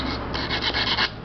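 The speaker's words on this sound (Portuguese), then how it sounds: "Dá uma limpada boa no terminal, ó. Tá tudo enferrujadinho, né?" Rusty metal terminal of an electric iron being scrubbed clean, a short run of dry rubbing strokes, close and fairly soft, with no voices.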